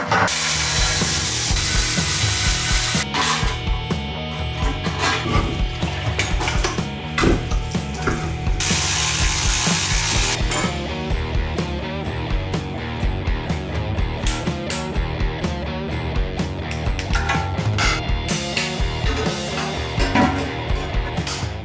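A ratchet wrench clicks rapidly and loudly in repeated bursts, pausing between strokes, while unbolting an LS1 windage tray from a 5.3 oil pan in a Silverado engine swap.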